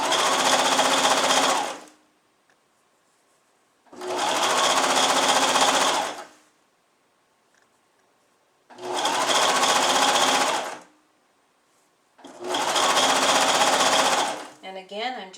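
Sewing machine hemming stretchy swimsuit fabric along the presser foot edge, running in four steady bursts of about two seconds each separated by short pauses, loud and close with no talking.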